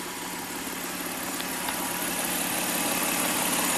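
A Toyota Sienna V6 with over 500,000 miles, fresh from a timing belt job, idling smoothly: a steady, even engine hum heard close and alone, with no breaks or misses.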